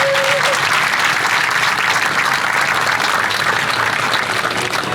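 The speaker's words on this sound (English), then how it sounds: "Please give them a lot of round of applause." An audience at a city's state-of-the-city address gives loud, sustained applause that fills the whole stretch without a break.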